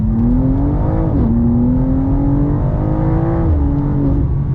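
A 2024 BMW M2 CS with a transmission tune pulls away from a stop, its engine rising in pitch through smooth upshifts with brief dips between gears, loud and steady from inside the cabin.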